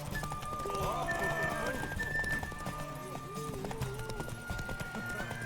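Horse hooves clip-clop in a quick rhythm alongside a whinny and other sounds in The Witcher 3: Wild Hunt, with voices talking over the top.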